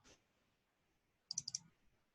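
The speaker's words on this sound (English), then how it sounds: "as soon as we start typing" A computer keyboard clicks in one short burst of four or five quick keystrokes after a single faint tap, close and quiet against near silence.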